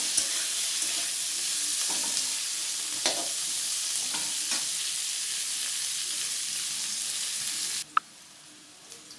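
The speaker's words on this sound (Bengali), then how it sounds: "দিয়ে বেশ ভালো করে পেঁয়াজগুলো ভেজে নেব যতক্ষণ না বেশ লালচে রঙের হয় ততক্ষণ আমি ভাজতে থাকবো" Onions sizzle steadily in a frying pan, a dense broadband hiss with a few soft stirring scrapes, which abruptly quietens near the end, leaving a gentler sizzle and a couple of light clicks.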